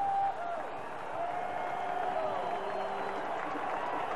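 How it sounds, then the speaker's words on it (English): A college football crowd roars in a steady wash of cheering at Mackay Stadium during the 1986 Georgia Southern at Nevada game, heard at a distance, with faint horn-like tones drifting through the noise. "And now listen to this crowd here at Mackey Stadium."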